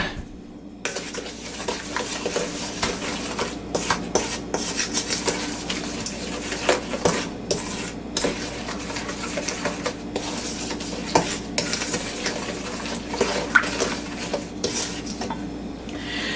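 A spoon scrapes and clinks steadily in a bowl as a crumb cake mixture is stirred, a continuous rubbing and scraping with irregular taps against the bowl's side, close and moderately quiet.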